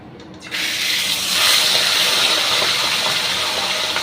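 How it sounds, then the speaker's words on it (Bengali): Pomfret fish slid into very hot cooking oil, starting with a quiet moment and then a sudden loud sizzle that keeps hissing steadily and strongly. "তেল খুব ভালো গরম হয়ে গেছে, মানে যাকে বলে আশা, সেই হয়ে গেছে। এবারে আমি আস্তে আস্তে মাছ ছেড়ে দেবো ওর মধ্যে।"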